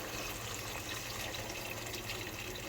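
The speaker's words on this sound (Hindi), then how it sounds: "अब मैं इसके अंदर पानी ऐड करूँगी।" Boiled water poured into chicken for haleem in a cooking pot, a steady continuous splashing gush, faint and unbroken for a few seconds with no talking.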